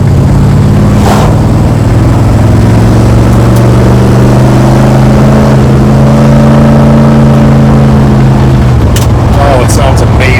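A Dodge Dart Swinger with new mufflers revs up and holds a steady, loud, throaty exhaust note, the pitch rising and falling before dropping near the end, recorded close.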